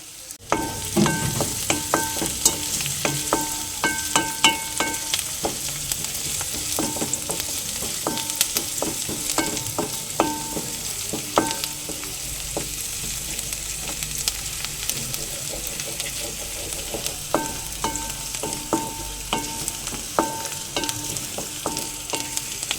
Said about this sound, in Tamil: வெங்காயம் பார்த்திங்கன்னா கொஞ்சம் வதங்கிடுச்சு